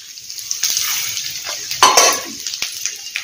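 Chana dal, urad dal and fenugreek seeds roasting in a little oil in a pan, bright sizzling with clicking stirs and a sharp scrape of the spoon, close and fairly loud.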